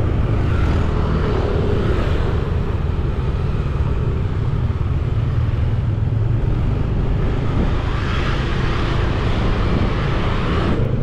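Steady road traffic on Shortcut Canggu in Bali, many motorbike engines droning continuously, a dense rumble of passing vehicles filling the whole stretch without pause.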